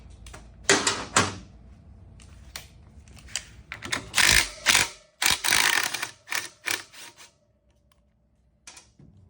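Working on the rear wheel of a Light Bee electric dirt bike during a chain kit install: intermittent metallic clicks, ratcheting and clanks of tools and parts, close by, with quiet pauses between bursts.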